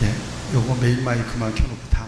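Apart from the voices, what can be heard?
No everyday noise stands out behind the speech.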